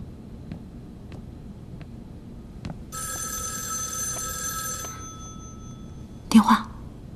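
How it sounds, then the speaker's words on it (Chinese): A telephone in a Chinese period drama rings in one loud, bright burst lasting about two seconds, preceded by faint ticks and followed by a short sharp knock. "电话。"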